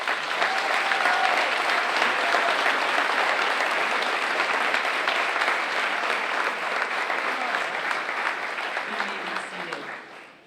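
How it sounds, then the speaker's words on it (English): Audience at an elementary school fifth grade promotion ceremony claps continuously for about ten seconds, a dense, steady wash of many hands that tapers off at the end, with a voice briefly audible beneath it. "Can we give them a round of applause?"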